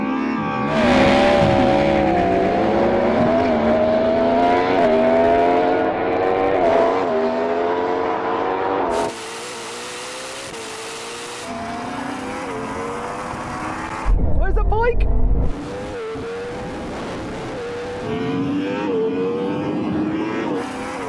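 A drag race between a Porsche Taycan Turbo GT, a Ferrari SF90 and a Yamaha R1 gives loud, rising motor and engine whines that climb in pitch as they accelerate, with a voice talking over them.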